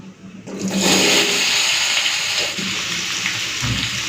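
A sudden burst of loud hissing sizzle starts as cut potatoes hit hot oil for aloo posto, then keeps crackling steadily at a strong level.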